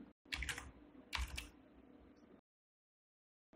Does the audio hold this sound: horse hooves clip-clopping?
no